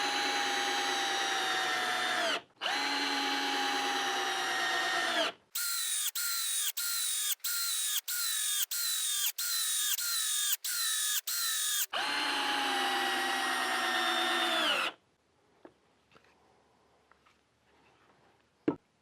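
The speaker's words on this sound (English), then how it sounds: "We'll be starting with our Hyper Tough 99303, which is the brushed single-speed 12-volt version" A Hyper Tough 99303 brushed single-speed 12-volt drill whirs at full speed in long runs, then in a rapid series of short bursts, then another long run before stopping, with quiet clicks afterward.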